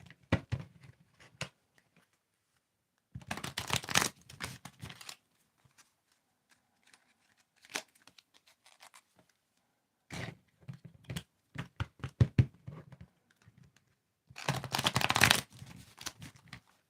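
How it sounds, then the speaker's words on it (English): Oracle cards being shuffled by hand in several separate bursts of crisp riffling and flicking, with quiet pauses between them, close and fairly soft. "Tell me when to stop shuffling, Christina."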